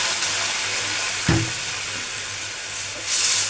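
Water poured into a hot pan while cooking veg Manchurian, giving a short burst of sizzle around the midpoint that settles into a steady steamy hiss, with another swell of hissing near the end.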